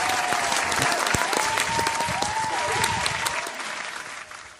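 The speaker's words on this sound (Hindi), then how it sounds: "तो जोरदार तालियों से स्वागत कीजिए हमारे पहले कवि" Audience applause welcoming the first poet onstage at a Hindi comedy poetry event: dense, steady clapping from a crowd that holds strong for several seconds, then begins to thin slightly toward the end.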